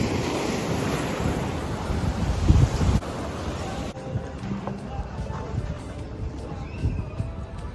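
Ocean surf at Playa Blanca, Lanzarote, washes in a steady broad roar with gusting wind buffeting the microphone, and voices are heard faintly amid the noise.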